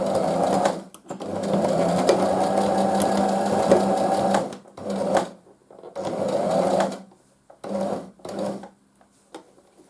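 Sewing machine stitching fabric face masks, running in close, loud bursts of rapid needle clatter separated by short pauses and stops, ending in silence.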